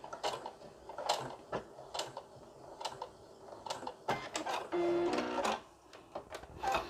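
A sewing machine back tacking a French seam in short, close mechanical bursts, with a brief steady whirr near the end and light fabric handling between stitches.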